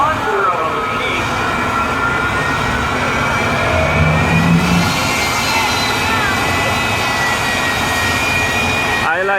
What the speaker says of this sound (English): J79, weathering up J79 engine. Jet engine. One of the biggest jet engines ever produced.